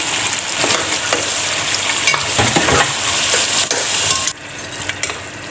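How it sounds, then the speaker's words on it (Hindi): Mutton sizzles loudly as it fries in a karahi, with scraping and clinking of a spoon stirring the meat, close and continuous before the sizzle drops suddenly near the end. "अब देखिए इसकी भुनाई भी हो रही है"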